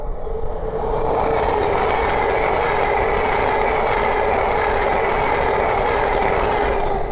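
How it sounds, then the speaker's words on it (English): A Thameslink Class 700 electric train on the East Coast Main Line at Great Wymondley passes close by as a loud, steady roar of wheels and rushing air that builds quickly and stays sustained, with faint rhythmic clatter underneath. "the next train to pass by is a Thames Link 700"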